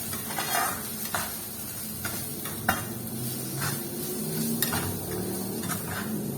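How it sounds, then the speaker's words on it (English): Mustard fish curry of hilsa is tossed and stirred in a hot pan, a steady sizzle with scraping strokes and light clinks of utensil against metal, close and continuous, without voices. "I'm just tossing a bit so you can mix it up"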